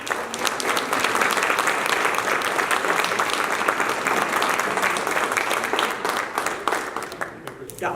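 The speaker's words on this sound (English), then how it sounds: "Give her a round of applause as she comes." A community gathering's audience gives a full round of applause, thick and continuous clapping at steady volume for the whole stretch, easing slightly near the end.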